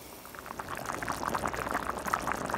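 Black-eyed peas with bay leaves simmering in a Le Creuset pot on medium-high heat, a quiet steady bubbling with soft pops throughout, faint and close.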